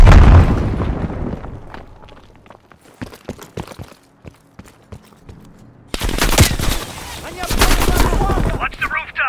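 Grenade blast and gunfire in Call of Duty: Black Ops Cold War, a loud booming explosion followed by rapid crackling shots and a second heavy burst of dense firing and rumble.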